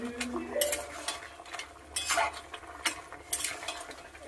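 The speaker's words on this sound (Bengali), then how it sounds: "এবার এতে পাঁপড়গুলো দিয়ে দেব, দিয়ে নেড়ে চেড়ে নামিয়ে নেব।" Papad and boiled potato curry stirred in a pan, with repeated scraping and clinking of a utensil against the metal in uneven strokes, close and fairly quiet, with no talking.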